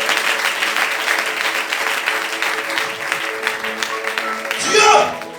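A church congregation at a fasting and prayer service claps in sustained, dense applause while a voice keeps talking over it, with a brief swell near the end.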